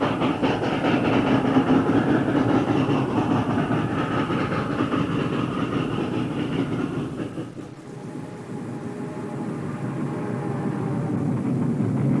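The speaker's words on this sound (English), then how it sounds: "An Erie double-headed freight rolls over the viaduct" A double-headed Erie freight train rolls over a viaduct on the mountainous Pennsylvania Division, a steady loud rumble with faint rail clatter that dips briefly and then builds again.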